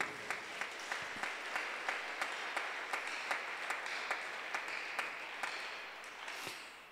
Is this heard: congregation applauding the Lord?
yes